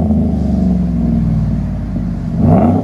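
A 2012 GMC Sierra SLE pickup with a 5.3L V8, dual exhaust and a Vibrant bottle resonator revs outdoors in cold, snowy weather, giving a steady deep exhaust rumble that swells into a louder rev near the end.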